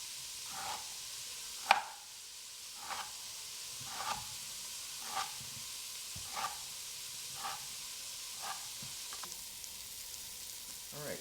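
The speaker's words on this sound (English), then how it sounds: "you want to roll up the collard greens like this, and you want to cut very thin ribbons." A knife chops rolled collard greens into thin ribbons on a cutting board, giving roughly ten crisp, evenly spaced cuts about a second apart with a faint background hiss and no talking.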